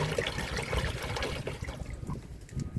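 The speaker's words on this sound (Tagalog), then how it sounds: "ating pong lagyan ng tubig ang ating mga halaman at ating po silang paiinumin" Water mixed with fertilizer being poured onto potted plants, a soft trickling and splashing with uneven dribbles, fairly close and quiet.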